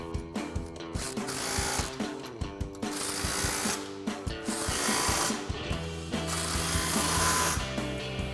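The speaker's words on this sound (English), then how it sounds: "we're gonna tighten down our front clamps, grab an impact and 15mm socket" Impact wrench with a 15mm socket tightening the front exhaust clamps on an X pipe of a 2024-2025 Mustang GT Roush cat-back exhaust, a steady close rattling hammer lasting several seconds with rhythmic pulses.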